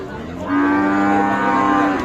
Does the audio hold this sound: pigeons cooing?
no